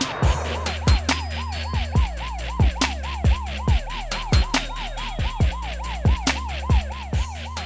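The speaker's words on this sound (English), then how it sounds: "You hear the sirens?" Video game sirens wail in a fast, repeating warble alongside regular sharp electronic beeps, loud and steady with no talking.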